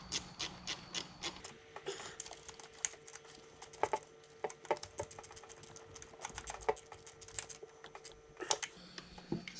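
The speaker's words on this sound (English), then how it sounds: "Now I'm going to use my 1/4-inch ratchet." Clicking of a 1/4-inch ratchet snugging a spark plug on a 1998-2002 Honda Accord V6, a run of quick close ticks and clicks repeating unevenly for several seconds, with no talk.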